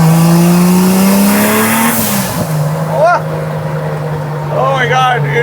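A turbocharged 2JZ-swapped 1968 Dodge Charger accelerates hard from inside the cabin, engine tone climbing loudly before dropping at a shift and pulling again, with the turbo's rising whine and chirps near the end.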